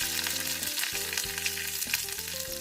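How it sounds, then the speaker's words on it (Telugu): Cumin, mustard seeds, dried red chilies, garlic and curry leaves fry in hot oil, giving a dense, steady crackling sizzle with frequent small pops and occasional stirring scrapes, close and continuous with no talking. "జీలకర్ర ఆవాలు చిటపటమనేంతవరకు ఎండుమిర్చీలు వెల్లుల్లిపాయలు కొద్దిగా కలర్ చేంజ్ అవుతూ కరివేపాకులు డ్రై అయ్యే వరకు అర నిమిషం పాటు ఫ్రై చేసుకోవాలి"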